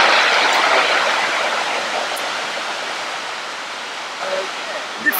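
Water rushes below a famous bridge in Bath on a rainy day, a broad, steady hiss that is loud and close and fades slightly over time.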